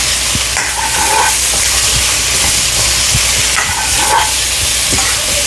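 Dried fish sautés in a pan for an eggplant curry, giving a loud, continuous sizzle and hiss with occasional soft scrapes of stirring.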